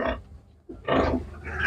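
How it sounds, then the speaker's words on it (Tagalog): Piglets suckling make short, loud, close grunts and squeals in two bursts separated by a brief pause. "Malikot dumidi ang baboy pala, oh."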